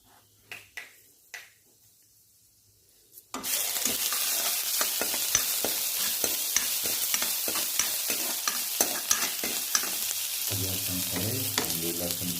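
Lightly fried mushrooms in gravy sizzle steadily in a pan while being stirred, the frying starting abruptly after a few soft knocks and continuing loud and close with repeated scraping strokes.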